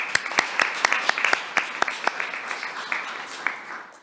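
A group claps to see off a departing official, the sharp individual claps coming in a loose, uneven burst that thins out and fades toward the end.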